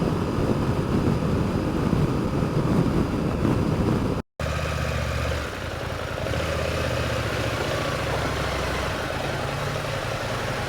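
A brand-new motorcycle in its break-in period idles steadily, a continuous low engine rumble with a brief dropout near the middle before the running resumes at a similar even level.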